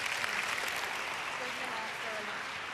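Applause from an audience at a junior Miss pageant during a street festival, a dense continuous wash of clapping at steady level with faint voices underneath, holding throughout without a break.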